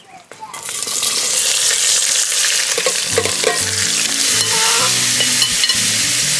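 Onion and ají escabeche fry in hot oil in a pot, a loud, steady sizzle with stirring scrapes and a faint hum in the background.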